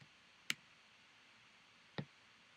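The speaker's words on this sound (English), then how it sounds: "I'm going to click on that college" Two sharp, quiet computer mouse clicks about one and a half seconds apart, close up against a faint background hiss.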